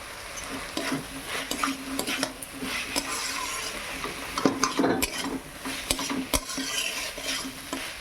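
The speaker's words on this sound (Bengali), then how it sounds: "ভালো করে আমি নেড়ে নেই" A spoon scrapes and clinks in a pan as mustard and poppy seed paste is stirred into mixed vegetables, close irregular metallic taps and scrapes over a soft continuous sizzle, no voices.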